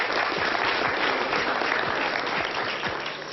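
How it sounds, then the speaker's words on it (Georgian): A crowd claps steadily and loudly for about three seconds, a dense close applause that eases off slightly toward the end. "აპლოდისმენტები."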